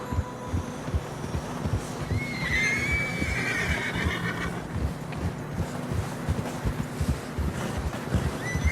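A horse whinnies in fresh snow in Red Dead Redemption 2, one drawn-out neigh near the middle over steady hoofbeats trudging through snow and a background of wind.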